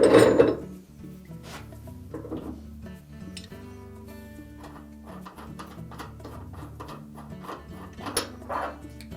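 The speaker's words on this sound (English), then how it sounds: "So while holding the inner basket from turning, we'll just loosen that nut." A wrench works a nut loose on the inner tub hub of a GE top-load washer, giving a series of metallic clicks, scrapes and ratcheting knocks close up, with a louder clunk at the start.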